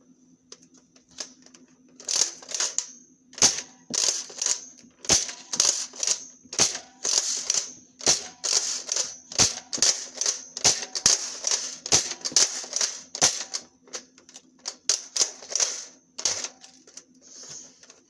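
A Dart Zone XL 10 toy shotgun blaster is repeatedly pump-cocked and fired, giving a fast series of sharp plastic clacks and snaps heard up close over a faint steady hum.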